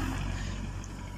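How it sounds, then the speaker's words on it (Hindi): A Belarus 510 tractor works a field, its engine a steady, loud low rumble with constant mechanical drone and no talk over it. "तो चलते हैं अपने ट्रैक्टर की तरफ जहाँ ट्रैक्टर अपना काम कर रहा है।"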